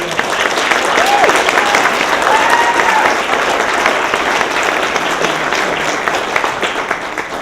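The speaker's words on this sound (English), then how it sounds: "give a round of applause to Khalil Downing and the crew" An audience at a retirement roast bursts into loud, sustained applause, dense clapping that fills the room from start to finish.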